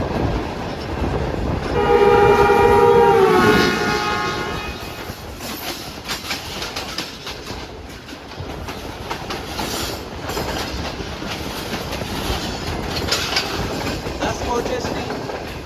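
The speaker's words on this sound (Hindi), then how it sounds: "कोई ट्रेन आ रही है।" A train passes close by near the Ravi Bridge while riding the Shalimar Express from Lahore to Karachi; a loud horn blast rises about two seconds in, followed by steady rumbling wheel and carriage noise with clicking that continues to the end.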